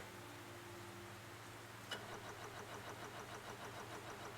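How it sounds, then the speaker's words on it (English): A vehicle engine in the video game Stormworks hums at a steady low idle, then after a click settles into a rhythmic, pulsing chug that repeats evenly to the end, moderately quiet and with no speech. "And the engine does work."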